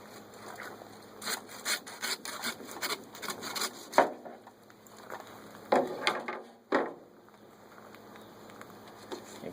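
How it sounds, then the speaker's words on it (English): A meat saw cuts through lamb bone during butchering, giving a steady rasping back-and-forth rhythm of close strokes, broken by a few louder scraping bursts and short pauses. "Come back in with our meat saw."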